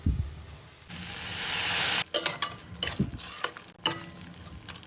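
Spice masala frying in a pan while being stirred for a prawn malai curry, a steady sizzle broken by scraping stirs and brief pauses, close and moderately loud with no talking.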